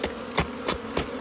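Honey bees swarming around a hive during a warm-day winter honey harvest, a dense close buzzing with a few sharp taps or knocks at regular intervals, no talk.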